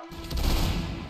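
A volley of musket fire in the Roblox line-battle game Fallen Flag, set in the Napoleonic Wars, bursts out as one loud, dense, crackling blast that rings on briefly and alone.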